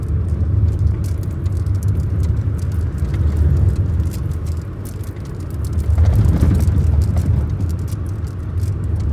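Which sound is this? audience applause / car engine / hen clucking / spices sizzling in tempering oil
car engine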